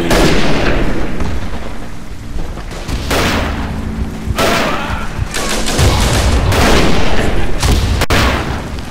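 Explosions and gunfire in the First World War shooter Verdun on a Flanders map, heavy booms and crackling shots overlapping in loud, close bursts across the whole stretch.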